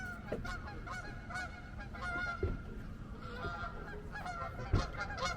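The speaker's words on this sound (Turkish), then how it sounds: "Bak martı sesi." Seagulls call repeatedly in the distance, quiet honking cries scattered over a soft background hum.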